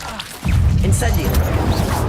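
A video game's Incendio fire spell bursts in abruptly after a brief quiet moment, then continues as a dense, loud whooshing roar, with a voice heard alongside.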